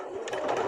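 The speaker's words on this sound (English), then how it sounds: "I'm sewing very close to the edge" Sewing machine backstitching along the very edge of scrunchie fabric, a short, steady mechanical whir that holds level and close for under a second.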